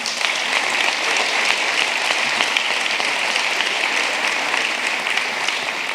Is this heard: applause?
yes